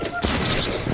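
Gunfire from a sniper gun in a video game: one sudden, dense, loud burst a quarter-second in, then a sustained rumbling tail with possible faint voice underneath.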